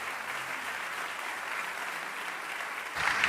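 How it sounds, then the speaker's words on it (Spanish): A church congregation claps together during a sermon, a steady dense wash of applause that swells slightly near the end. "Denle un aplauso a Dios."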